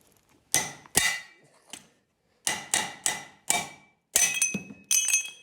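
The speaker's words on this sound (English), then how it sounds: "you literally hit that blade really hard with a hammer" A hammer strikes a sickle bar blade to knock its rivets off, giving sharp metallic clangs in irregular bursts of single hits and quick doubles, each one close and ringing briefly.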